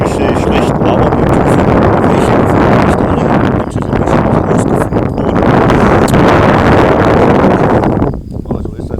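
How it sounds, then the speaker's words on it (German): Strong wind buffets a microphone outdoors on a Bavarian field during metal detecting, a loud, continuous broadband roar with gusty swells that drops away sharply near the end. "der Wind ist ziemlich stark"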